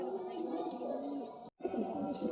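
Pigeons offered for sale by a dealer coo softly in low, throaty pulses, with a faint background murmur around them and a brief gap near the end.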